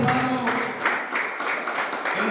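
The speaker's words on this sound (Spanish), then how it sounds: "den un fuerte aplauso al Señor" Church congregation giving applause during a Spanish-language service, a brief steady wash of clapping with voices faintly mixed underneath.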